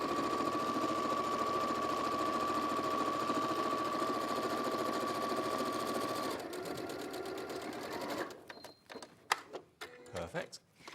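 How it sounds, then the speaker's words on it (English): A sewing machine stitching across several fabric layers with a steady, fast mechanical whir for most of the time, then slowing into uneven stitches and stopping, with a voice talking over the final moments. "I'm just going to sew across the full length there"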